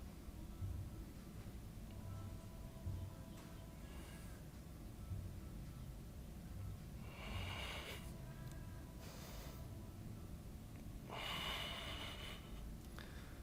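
Deep breaths during a yoga class, with a few audible nasal inhales and exhales rising out of a faint, steady room hiss, soft and somewhat distant, with no talking.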